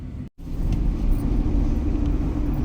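A car moving through city traffic near Zaman Park gives a steady, loud rumble of engine and road noise, with one brief dropout near the start and no talking.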